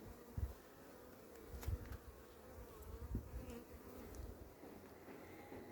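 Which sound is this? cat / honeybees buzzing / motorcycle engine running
honeybees buzzing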